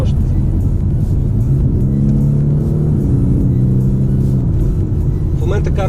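A BMW car's exhaust rumbles low and steady while driving, with engine tone rising and falling slightly under nearby speech.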